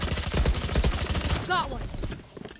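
A rapid burst of small staccato pops as a swarm grenade detonates in Valorant, followed by a brief rising electronic whine that fades out.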